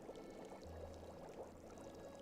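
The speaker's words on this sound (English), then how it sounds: "I love it with the sound of the tea bubbling." Tea bubbling softly in a Nancy Drew game scene set in Paris, a steady low burble and gurgle under faint accordion music in the background, continuous and close.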